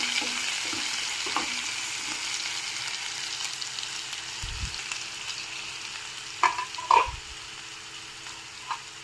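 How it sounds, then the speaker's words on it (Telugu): Onion sizzles steadily in hot oil in a pan for okra pulusu, a continuous close frying hiss with a few faint stirring clicks and knocks. "ఇందులోకి ఒక ఆనియన్ వేసుకుందాం. ఒక 2 సెకండ్స్ వేగాలి."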